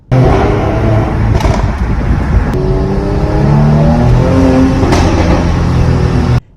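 A 2021 facelift Mercedes-AMG GLC 43 engine revs hard several times, rising and falling in pitch with a deep exhaust growl, loud and close, no talking.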